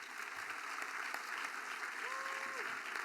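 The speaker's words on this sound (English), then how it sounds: "Give them a round of applause." Applause from an awards-ceremony audience honoring the speaker's parents, a steady broadband wash of clapping from a large crowd, faint and distant, with a brief tonal whistle or voice partway through.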